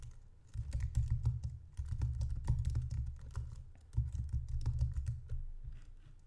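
Rapid keystrokes clatter on a computer keyboard in quick bursts with short pauses, close and clear, with no voice over the tapping.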